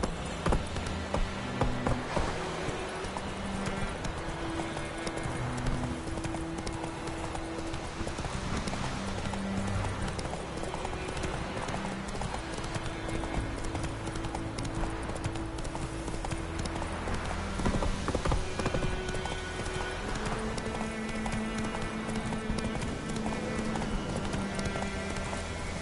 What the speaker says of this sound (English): Whoa there, Roach. Go, go.